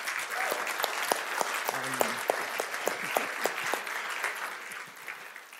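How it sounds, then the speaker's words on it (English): A conference audience applauds to welcome a guest speaker to the stage, a dense, steady clapping with a few sharp louder claps standing out, and a voice heard briefly over it. "Please welcome to the stage with a warm round of applause, Owen Jones."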